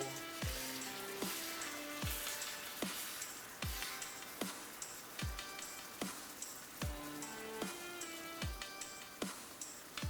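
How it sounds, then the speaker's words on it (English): Sugar boiling unstirred in a pot for caramel, a steady soft bubbling sizzle with faint crackles and a few sharper clicks and taps at regular intervals, fairly quiet and without talk. "So at this stage you just leave it to boil."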